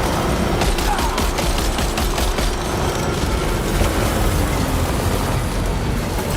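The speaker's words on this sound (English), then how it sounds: "Missiles." Missiles launch and fire in Death Stranding 2, a dense, continuous barrage of rapid blasts and roaring rumble that stays loud throughout, with no clear speech over it.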